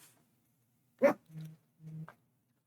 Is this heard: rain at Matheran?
no